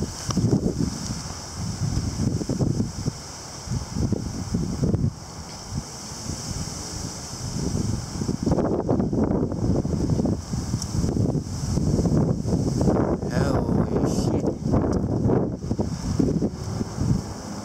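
Gusty wind before an October wind storm with a shelf cloud overhead, rumbling buffets across the microphone that rise and fall in strong surges over a constant background hiss.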